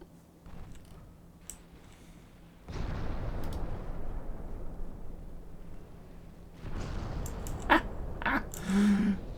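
Battleship guns firing in the naval combat game Ultimate Admiral Dreadnoughts, a deep booming salvo setting off a sustained low rumble, later joined by a few sharper cracks and distant impacts, with no voices.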